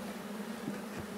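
Honey bees buzzing inside an opened hive box holding a queen cell and brood, a steady low droning hum that stays even and fairly quiet through the whole short stretch.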